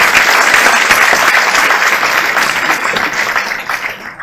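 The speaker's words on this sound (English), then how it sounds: "I would like a little applause." Sustained applause from a large audience at an academic year opening and alumni award ceremony, loud and steady at first and thinning slightly toward the end.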